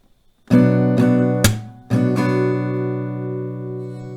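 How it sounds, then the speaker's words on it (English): Close acoustic guitar strumming a repeating chord with a sharp hand clap landing in the pattern, then the chord rings out. "you just replace the 3rd down in the previous strumming pattern with a clap"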